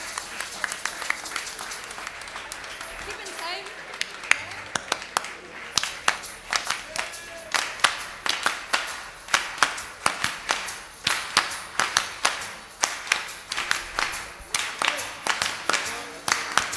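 Hands clapping in a steady rhythm, sharp repeated claps building into a regular beat over a lively room at a concert in Lleida, Spain.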